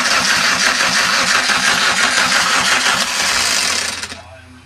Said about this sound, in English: the starter motor itself doesn't sound too good